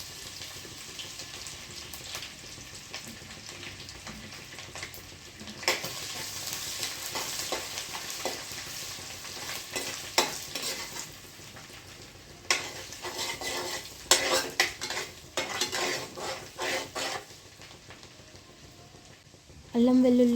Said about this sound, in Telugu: అదే ప్యాన్లో కొంచెం ఆయిల్ యాడ్ చేసుకొని అల్లం వెల్లుల్లి పేస్ట్ వేసుకొని ఫ్రై చేసుకుందాం